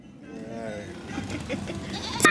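Goats on a farm give a brief, wavering bleat close by, followed by shuffling and rustling, with people's voices in the background.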